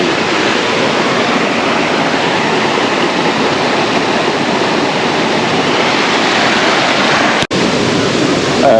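A steady, loud rush of cold river water surrounds an outdoor shower in a river, close and unbroken for the whole stretch, with one sharp brief dropout near the end and no talking.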